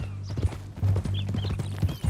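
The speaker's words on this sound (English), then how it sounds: "That a new horse?" Horse hooves clip-clop in the video game Red Dead Redemption 2, a quick rhythmic series of close hoofbeats with a low steady hum underneath.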